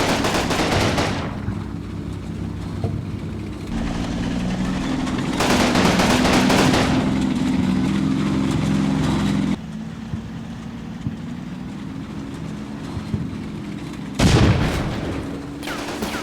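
A German anti-tank gun fires at an M5 tank in the game Combat Mission Fortress Italy, with loud booming shots and rattling bursts over a steady engine-like rumble.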